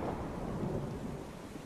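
A thunderstorm in the God of War video game, with a low rolling rumble of thunder over steady rain noise that continues evenly throughout, with no voices.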